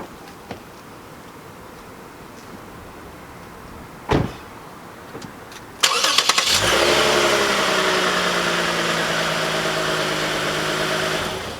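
A 2019 Lexus RC350 F Sport AWD starts up after a quiet stretch of faint clicks and a brief thump, then its engine settles into a steady, loud, close hum that carries through to the end of a night drive, with no talk.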